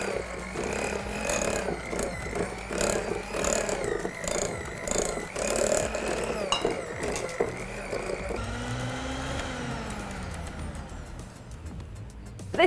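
Blender steadily whizzing Nutella pie dough ingredients, including baking powder and vanilla essence, a continuous loud motor whir that shifts pitch partway through before winding down at the end.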